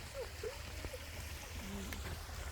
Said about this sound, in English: You hear the water running?